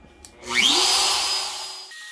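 A CNC machine powering up to mill a guitar body, its spindle whine rising in pitch and settling into a steady, loud tone before dropping off near the end, with no voices.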